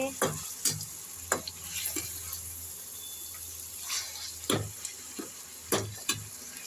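Mushrooms fry in a kadai with a soft, steady sizzle, broken by occasional scrapes and taps of a spoon stirring them, fairly quiet and close with no voices.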